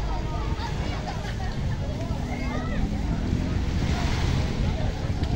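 Steady wind rushing across the microphone outdoors at a beach, with faint surf and indistinct voices in the background.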